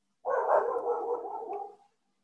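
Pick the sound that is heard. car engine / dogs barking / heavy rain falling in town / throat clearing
dogs barking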